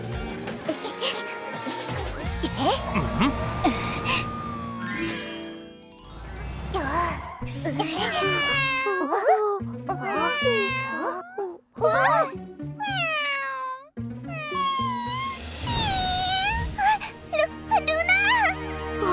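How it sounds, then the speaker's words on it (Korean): A kitten meows repeatedly in high, thin cries, close by, with talking voices and some light clinking around it. "며칠 전에 태어난 아기 고양이야!"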